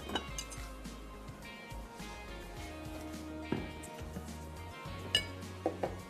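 Serving dish handled while making a strawberry fruit trifle, soft clinks and taps of glass and crockery at irregular intervals, fairly quiet, with a few sharper knocks near the end.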